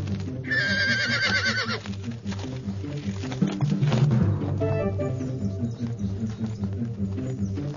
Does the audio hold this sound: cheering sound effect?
no